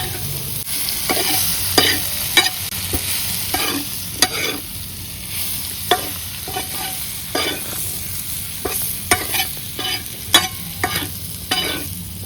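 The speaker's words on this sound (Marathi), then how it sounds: "तव्यातल्या बटाट्यामध्ये आता शिजायसाठी पाणी टाकलंय आणि जाळ बी चांगला लावलाय." Potatoes frying in a pan on a strong flame after water is added, a continuous hiss with repeated scraping stirs and clacks of a spatula, close up.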